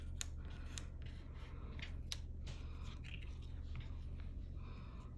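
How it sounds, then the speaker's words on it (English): Scissors snip through a hair ribbon folded in half, a few short crisp cuts scattered over quiet room tone, close and fairly soft. "we're just gonna take it, fold it in half, and cut it into 2 parts"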